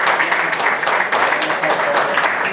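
Audience applause at a conference in Shiloh, a dense, steady wash of many hands clapping that fills the whole stretch at close range without a break.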